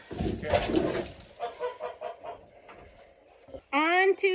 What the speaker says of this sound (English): On to the chickens and duck and goose.